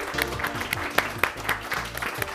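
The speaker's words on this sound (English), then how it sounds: "Give them a nice round of applause" Brief burst of audience clapping at an elementary school Science Bowl match, honoring the winning Greenbelt team; dense, close applause from a modest crowd lasting a couple of seconds.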